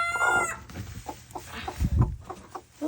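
Broody hen sitting on eggs while they are taken from under her, giving a loud agitated squawk at first and then a run of low, irregular clucks close to the microphone.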